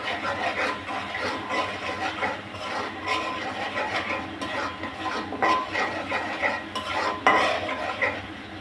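Spices are stirred and sautéed in a pan for a pointed gourd dish, with steady scraping and rubbing of a utensil across the pan over a light sizzle, no voices.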